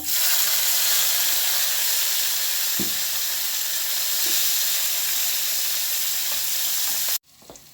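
Sliced onions fry in oil in a pan, a loud continuous hiss with a couple of soft stirring knocks, cutting off abruptly near the end.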